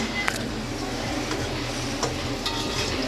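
Tomatoes and green chillies sauté in a pan for biryani, giving off a steady close sizzle broken by occasional light scrapes and clicks of stirring.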